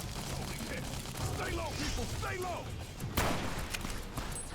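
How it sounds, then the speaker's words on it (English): Gunfire and explosions in the video game Fallout: New Vegas form a dense, continuous battle din of shots and blasts, with a sharp crack near the end and a voice shouting over the chaos. "All these goddamn explosions."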